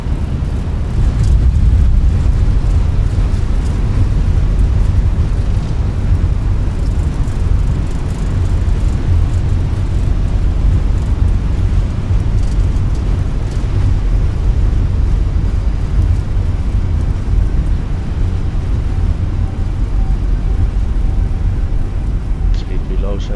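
An Airbus A320 deploying reverse thrust on landing in a flight simulator produces a loud, sustained low engine roar with broadband rushing noise that stays steady and dense throughout.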